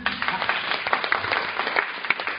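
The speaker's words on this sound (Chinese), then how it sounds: "你把给我掌声好不好" A short burst of audience applause at a live talk, many hands clapping at close range in a dense, uneven patter.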